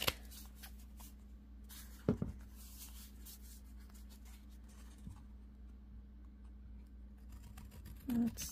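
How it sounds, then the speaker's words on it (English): Paper being creased and folded for a model of ancient Egyptian wonders, with soft scraping and rustling over a faint steady hum, plus a few sharper crinkles and taps. "let's get him creased really well"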